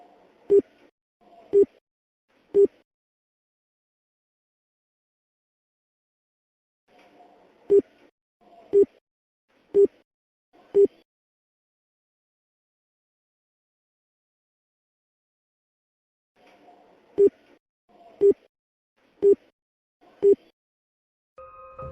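Short phone beeps come in clusters of three and four, separated by long silences, as a call fails to connect. Faint murmurs sit between the bursts.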